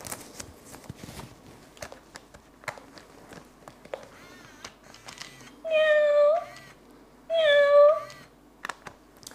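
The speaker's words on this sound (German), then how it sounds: "Und ich habe hier so eine robotische Katze." A robotic toy cat gives two drawn-out synthetic meows a couple of seconds apart, loud and close, amid soft handling noises and faint movement in a quiet room.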